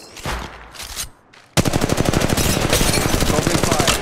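Rapid automatic gunfire in Apex Legends Mobile erupts after a short quiet stretch with scattered shots, becoming a loud, continuous stream of closely spaced cracks.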